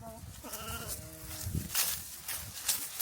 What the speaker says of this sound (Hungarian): Követ a birka. Jön, követ minket.